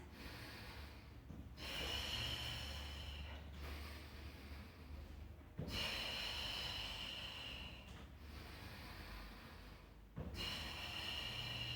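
Forceful rhythmic yoga breathing during a power yoga session, a steady run of strong hissing inhales and exhales, fairly faint and close, without speech.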